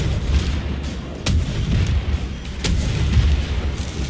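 Rocket launcher explosions in the shooter game Wolfenstein: The New Order, two sharp booming blasts with heavy low rumble over a dense, noisy in-game background of combat.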